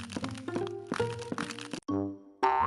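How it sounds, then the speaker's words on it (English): Crunching effects in a children's story reading as something is bitten in a living room, a few sharp crackly bursts in quick succession, then a brief pause and another bite, close and fairly loud with no talk. "Crunch, crunch,"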